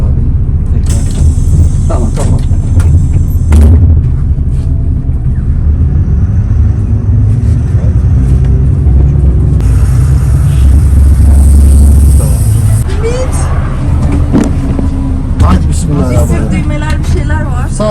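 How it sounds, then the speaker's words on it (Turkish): A two-storey caravan's engine rumbles steadily on a test drive, a continuous low drone with road noise throughout, while people talk over it. "Evet, bir test sürüşüne çıkıyoruz."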